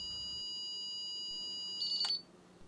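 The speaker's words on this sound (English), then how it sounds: "If the pairing is successful, you'll hear a series of beeps." A Minn Kota i-Pilot remote controller pairing: a steady electronic tone holds, then a brief cluster of bright, close beeps sounds before it quiets.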